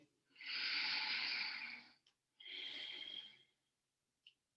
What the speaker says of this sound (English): deeply breathing.